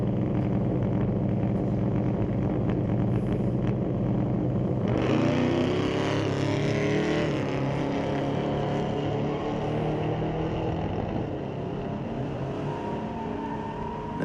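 A Mopar street-legal drag car engine roars loud and steady at Mission Raceway Park, its pitch climbing sharply partway through as it pulls away down the strip.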